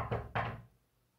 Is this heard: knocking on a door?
yes